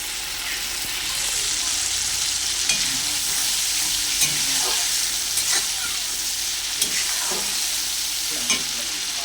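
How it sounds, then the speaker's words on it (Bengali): Spice paste frying in oil for a katla fish curry, a loud continuous sizzle with scraping stirring strokes recurring every second or so, close up. "মশলা আমার খুব ভালো করে কষানো হয়ে গেছে মশলা থেকে তেল ছেড়ে দিয়েছে"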